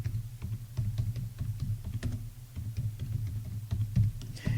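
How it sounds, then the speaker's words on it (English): Steady, rapid typing on a computer keyboard while entering a database search, a continuous patter of close, soft key clicks with no voices. "I'm going to type in electronic commerce."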